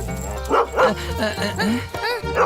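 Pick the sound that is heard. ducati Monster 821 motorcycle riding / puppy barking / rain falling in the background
puppy barking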